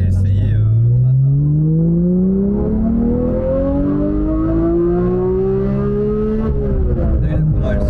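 A Porsche 991 GT3 Touring engine revs hard on the move, a loud, close howl climbing steadily in pitch through the gears toward very high revs, with the sound of driving underneath.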